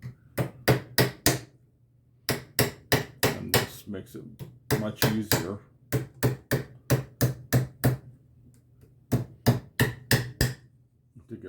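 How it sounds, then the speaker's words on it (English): Sharp metallic hammer strikes flatten a soldered jewelry seam on a file, in quick bursts of several blows separated by short pauses, close and loud; a voice briefly speaks between the blows. "And we're going to hammer on this."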